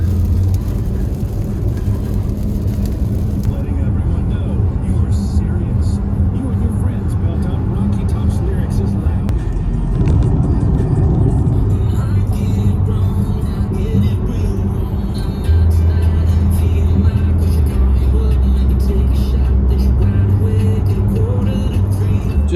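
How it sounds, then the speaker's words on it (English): Cars and buses rush past on a US highway during a road trip, a loud continuous roar of tyres and engines heard from inside a moving vehicle, with people talking over it. "The stupid cars driving and beeping and carrying on at me"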